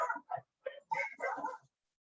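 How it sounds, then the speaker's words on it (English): Dogs barking indoors, several short sharp barks and yips in a quick burst, close and fairly loud, with whiny tones mixed in and no talk. "All the dogs are barking outside, so my dogs are barking."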